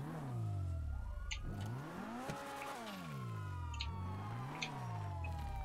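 A car engine in Grand Theft Auto V revs up and down in repeated rising and falling sweeps, loud and steady throughout, with faint chirping noises and light clatter over the engine drone.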